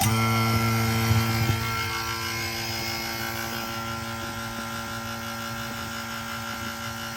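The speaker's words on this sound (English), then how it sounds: "let's turn it on, and we should hear this pump change really quick as soon as it starts sucking down" A vacuum pump on a 1983 Ford F150 air conditioning system drones steadily up close, its pitch and load shifting slightly after the first couple of seconds as it begins pulling vacuum, with a constant mechanical hum throughout.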